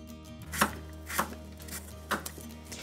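A knife chops a halved, deseeded pumpkin into very small pieces on a board, giving several sharp, close knocks at an uneven pace with low background hum.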